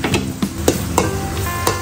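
Garlic sizzles in melted butter in a small pot, with steady frying crackle and a few sharp stirring scrapes of a utensil against the pot, close and loud.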